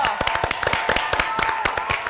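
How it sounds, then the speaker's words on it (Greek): A small studio audience claps in a quick, even rhythm. The claps are close and distinct, and no voices come through over them. "Τώρα είναι το χειροκρότημα."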